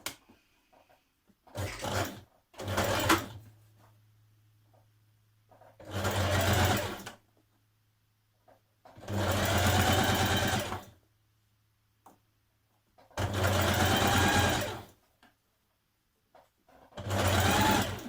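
A sewing machine stitches spaghetti straps for a Simplicity 8635 maxi dress in short, close bursts separated by quiet gaps, the motor whirring steadily during each run.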